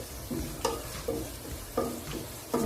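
Onions frying in a pan for a home-style Kerala fish curry, a steady close sizzle broken by about four sharp scraping stirs of a spoon against the pan.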